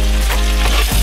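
Tofu sisig sizzles steadily on a hot pan as it is stirred, a loud close frying hiss with a brief scrape of the utensil near the end.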